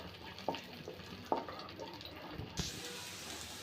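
Chopped garlic, four or five cloves, stirred into melted butter in a pan, a soft sizzle broken by a few sharp scraping stirs, with a brighter hiss rising near the end.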